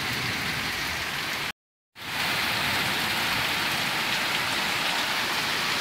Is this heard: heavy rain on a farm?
yes